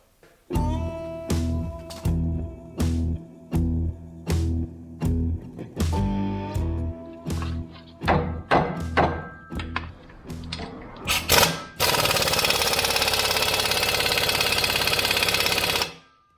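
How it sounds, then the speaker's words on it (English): A massive spanner working bolts loose on a truck chassis under restoration. Sharp metallic clacks come in a steady rhythm, speed up into clustered knocks, then give way to a loud, sustained rough noise that stops abruptly. "Pass me a massive spanner. There we go. Start unbolting stuff."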